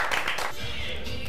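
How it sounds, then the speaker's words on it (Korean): Quick round of clapping from a small group in a studio, loud at first and fading within half a second into quiet room noise. "박수 한번 부탁드립니다"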